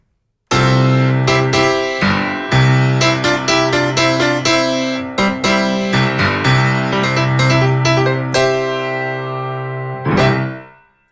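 Piano piece played fortissimo, with loud, dense chords and runs struck forcefully in a lively rhythm that ring out close and full before a final decaying chord.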